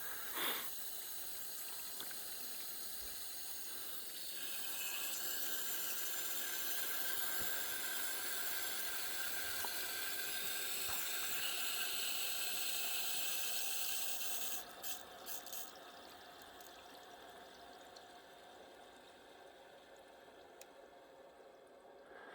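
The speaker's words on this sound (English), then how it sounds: "You'll hear the water coming in." Water hisses steadily into a toilet tank through the supply valve, a faint continuous rush that grows slightly stronger early on and eases after a change partway through.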